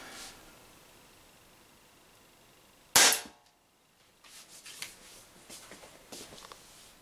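Umarex Walther PPQ M2 air pistol fires a single sharp, loud shot of power balls at a cardboard target, after quiet, then light rustling handling noises.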